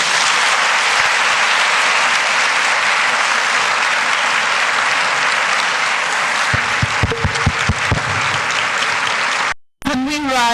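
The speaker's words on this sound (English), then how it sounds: "Can we rise and pay a proper round of applause, please?" Sustained audience applause at a news event fills the room loudly and evenly for about nine seconds, with a few lower thumps near the end before it cuts off abruptly and a brief voice follows.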